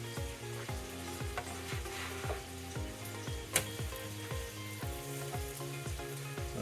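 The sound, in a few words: whole wheat pecan pancakes frying in a pan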